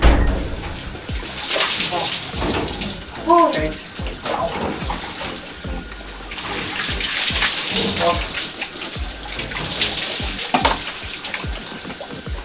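Water from an open tap pours steadily into an already full bathroom basin in a rustic washroom, a loud continuous gushing and sloshing with people talking over it.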